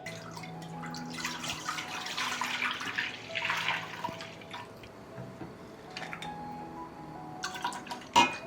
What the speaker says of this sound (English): I will pour the milk into a deep pan.